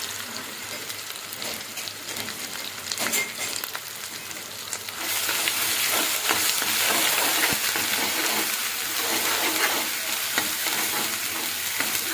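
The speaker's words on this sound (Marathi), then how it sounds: "त्यानंतर आपण जे वाटण बनवलेलं आहे कांदा खोबऱ्याचं ते टाकणार आहोत." Onion-coconut paste frying and being stirred in a pan for chicken rassa, a steady loud sizzle that swells louder midway and continues with scraping stir sounds, no talking.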